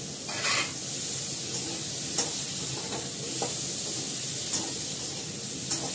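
Ginger and garlic paste frying in a hot pan gives a steady, close sizzle, broken by several sharp scrapes of a spoon stirring it at irregular intervals.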